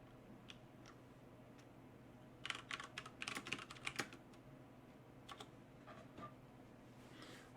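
Quiet typing on a computer keyboard, with a short burst of rapid keystrokes in the middle and scattered isolated taps before and after, no voices.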